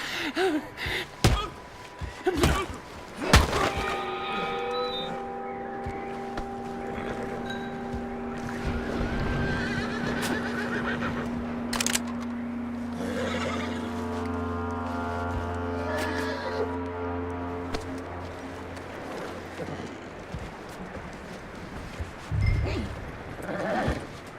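A horse in the video game Red Dead Redemption whinnies amid clattering thuds and a low droning hum, with a brief shrill neigh near the end and scattered knocks throughout.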